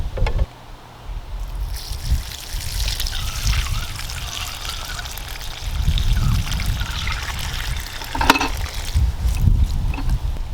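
Dirty water from a carpet extractor is poured out, a close, continuous splashing trickle with gurgling surges, no talk over it.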